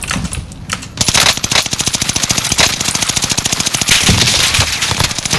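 Automatic gunfire in Call of Duty Warzone on Rebirth Island, an Automaton rifle setup: a loud, rapid, unbroken stream of close shots after a brief quieter lead-in, with no talk.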